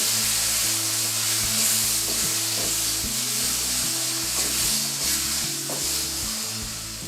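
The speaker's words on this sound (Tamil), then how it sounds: "வரமிளகா தாளிச்சிட்டு திரும்ப அதிலே இந்த கீரையை கொட்டி கிளறிடுவோம்." Spinach (keerai) tipped into hot oil with tempered dried red chillies and urad dal, then stirred, giving a steady, loud sizzle and frying hiss with rhythmic scraping of the spoon throughout, no voices.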